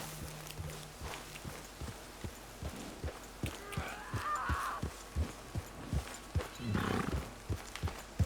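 Horse in the video game Red Dead Redemption 2, its hooves thudding in a steady clip-clop walking rhythm close by, with occasional soft snorts and breathy noises over a quiet outdoor ambience.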